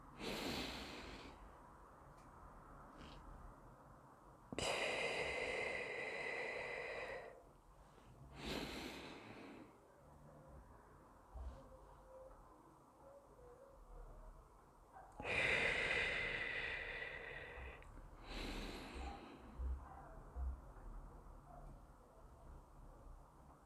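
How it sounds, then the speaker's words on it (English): Slow, deliberate breathing exercise at close range: a few long, airy inhales and exhales separated by quiet pauses, each breath swelling to a soft rush before fading, with no talking. "4, inhale. 4, I stop. And 4 or more, exhale."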